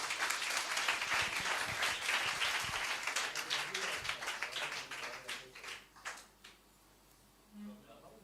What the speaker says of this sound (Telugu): ఒక్కసారి అయ్యగారికి చప్పట్లు కొడదాం